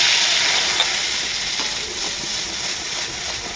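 Hilsa fish frying in oil with spices gives a steady, close, bright sizzling hiss that carries on evenly with only faint crackles and almost no talk.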